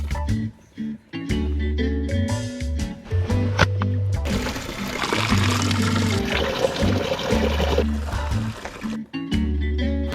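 Water running at a roadside water point in Serbia, a steady close pour and splash that stops and starts in bursts, with low background rumble and no speech.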